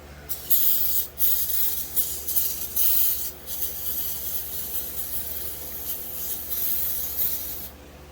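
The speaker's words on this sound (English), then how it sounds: "Rinse this one off just a little bit." A spray hisses steadily close by while a Husqvarna 372XP chainsaw part is rinsed, with brief dips and surges in the stream over about eight seconds.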